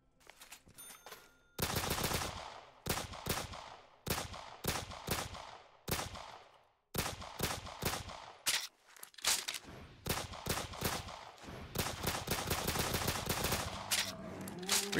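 Rapid bursts of gunfire from the video game Black Ops 3 Zombies: loud, close automatic shots in short clusters separated by brief pauses, with a long sustained volley toward the end.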